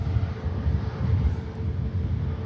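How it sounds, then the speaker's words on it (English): A Virgin Atlantic airliner bound for Atlanta sits in pushback at Manchester Airport, giving off a steady low engine rumble heard from a distance, mixed with some wind buffeting and no speech. "we've got another heavy pushback, ladies and gentlemen"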